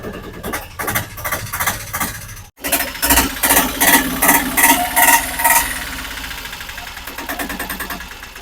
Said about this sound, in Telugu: ఓకే బండి స్టార్ట్ చేస్తున్నాం